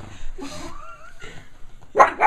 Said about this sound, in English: What you barking at, Chloe?